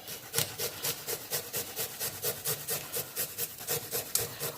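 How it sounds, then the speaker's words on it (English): Garlic is grated for prawn linguine in quick rhythmic strokes, about four per second, a close, crisp rasping scrape repeated evenly with no talk. "Now I'm going to just grate this garlic."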